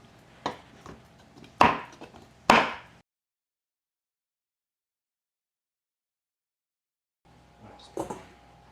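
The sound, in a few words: knife chopping chocolate on a board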